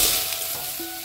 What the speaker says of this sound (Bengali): এখন সিদ্ধ করে আলুটা ভেজে নিব।